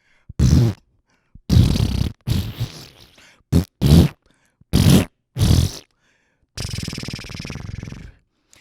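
A string of short, wet, flatulent bursts imitating queefs comes one after another with pauses between, ending in a longer rattling blast.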